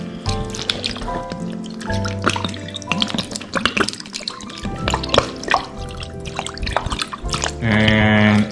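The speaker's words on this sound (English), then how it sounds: "I'm gonna pour the whole bottle in." Cooking wine pours from a bottle over pork tenderloin for Chinese char siu, a dripping, gurgling trickle with background music and a fuller gush near the end.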